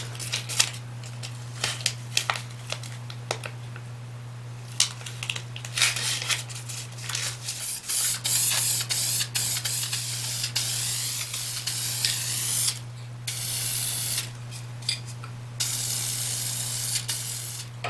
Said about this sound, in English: I'm going to go ahead and hit it with this paint here and just freshen it up